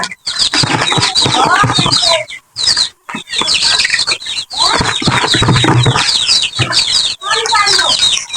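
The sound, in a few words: chickens clucking while fed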